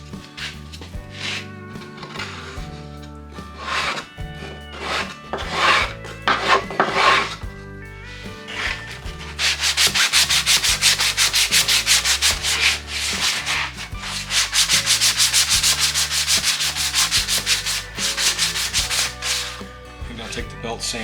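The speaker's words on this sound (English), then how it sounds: "Take the belt sander and hit it. Make it all nice and smooth after that caulk dries." A belt sander smooths a wooden bat box with dried caulk, starting with short scraping strokes and then grinding steadily and loudly up close, with no voices.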